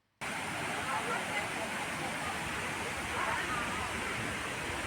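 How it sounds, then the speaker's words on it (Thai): Muak Lek waterfall in Saraburi rushing in a steady, dense roar of falling water, loud and continuous after a brief silent start, with no talk over it. "สามร้อยเมตรน่าจะถึงตัวน้ำตก"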